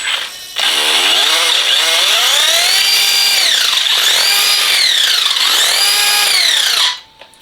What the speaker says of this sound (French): Ça c'est encore mon pignon qui frotte un petit peu